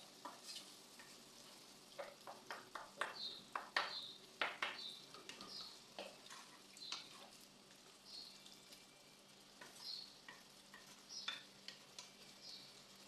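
Tomatoes, peppers and other vegetables cook in a pan for a chicken sauce, giving a faint sizzle with intermittent stirring scrapes and soft clinks at close range.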